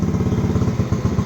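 A 50cc Icebear Maddog engine idles at high revs, a steady loud buzzing putter with even rapid firing pulses, close up and with nobody talking.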